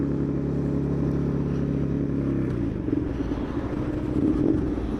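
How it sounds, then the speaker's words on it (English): A MotoGP race motorcycle rumbles steadily and then drops off throttle, with crackling pops and bangs from the exhaust over a continuous engine drone, moderately loud. "You guys can actually hear all the popping and banging coming from the exhaust system."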